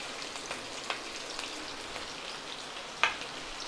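Green chillies and ginger fry in oil for street-style chicken fried rice, giving a soft, quiet crackle dotted with scattered pops and one sharper spit near the end, with no talking.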